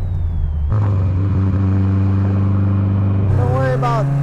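A 1970 Datsun 510 being driven, its engine holding a steady low drone that jumps in pitch as it revs partway through, with a voice talking over the cabin noise.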